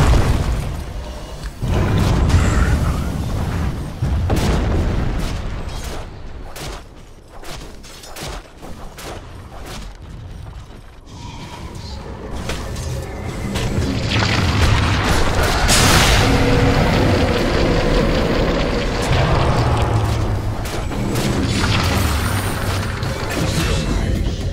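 Battle sounds from a Dota 2 match with Lifestealer in the safe lane, a Radiant bottom tower under attack: loud, dense booms, crashes and impacts that keep going throughout with hardly a pause.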